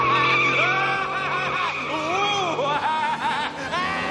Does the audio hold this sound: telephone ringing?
no